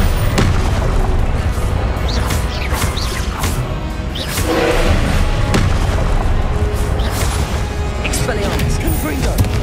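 Confringo blasting spells exploding in Hogwarts Legacy combat: repeated booming blasts and crashes with whooshing spell sounds, loud and dense, heard alongside a voice calling out spells.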